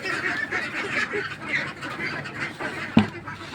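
A domestic duck quacks and honks repeatedly at close range, with a sharp knock near the end.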